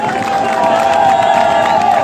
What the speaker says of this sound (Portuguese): Gritos e aplausos